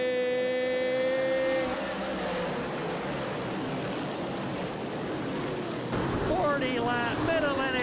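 Modified race cars roar together during a championship feature at Georgetown Speedway, a dense, continuous engine drone that holds steady throughout, with a voice briefly rising over it.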